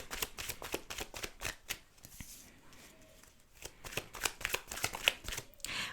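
Playing cards being shuffled for a tarot pick-a-card reading, a rapid run of crisp riffling flutters and slaps, pausing briefly midway before resuming, with no talking.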